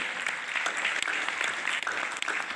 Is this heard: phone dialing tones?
no